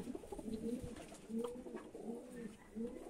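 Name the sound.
pigeon cooing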